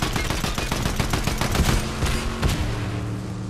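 Rapid automatic gunfire in Fortnite, a dense loud stream of close shots running nearly the whole time with a few heavier cracks mixed in.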